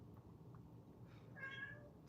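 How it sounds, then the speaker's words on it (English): A cat meows at a door, one faint, brief cry rising out of a quiet room hum, distant and soft. "My cat is meowing at the door."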